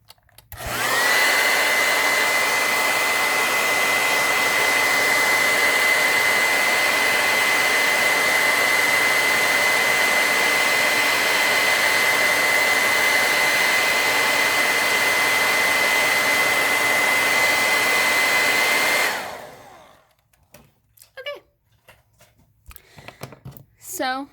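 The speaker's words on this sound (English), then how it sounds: "I'm going to get a hair dryer to dry it quickly, so there's going to be a really loud burst of noise" A hair dryer blasts on a freshly painted nail-polish line, a loud, steady broadband roar with a high whine that runs unbroken for about eighteen seconds and then cuts off, leaving a few faint clicks and movements.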